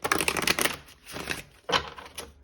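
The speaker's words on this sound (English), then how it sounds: "Okay, we'll do one last shuffle." A deck of tarot cards being shuffled in two or three quick riffling bursts, crisp papery flutters close by with short pauses between them.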